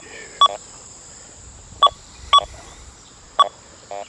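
Metal detector signal tones from a Deus 2 with HF2 coil: a handful of short electronic beeps at irregular intervals over a faint steady background hum.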